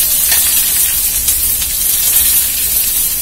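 Coriander, onion and chilli drop into a hot frying pan for horse gram kuzhambu, giving a loud, steady sizzle and hiss that holds throughout without a break.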